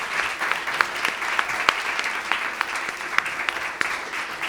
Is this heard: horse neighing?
no